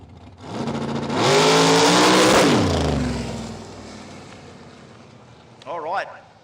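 A radial drag racing car running nitrous at Willowbank, Australia, roars past, rising to a loud, strained engine howl and then fading into the distance. A commentator speaks near the end.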